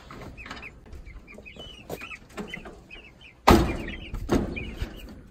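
Young pullet chick kept in a brooder, giving soft chirps and clucks through the clip, with a sudden rustling thump partway through and light scuffling around it.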